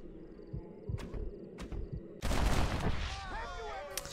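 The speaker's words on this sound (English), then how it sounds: "Shot it twice just to put two holes in it" Gunshots in the Western video game Red Dead Redemption firing at a thrown hat, a few sharp cracks spaced apart followed by a louder burst of gunfire and rumbling, with talk mixed in.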